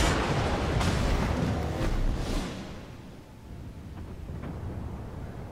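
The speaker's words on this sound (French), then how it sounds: "c'était les tirs du Tirpitz a priori, hein, pas ceux du Mosva" Tirpitz battleship main-gun salvos in World of Warships: a loud, rumbling burst of booming gunfire that fades into a lower roar, with a few softer distant thuds afterwards.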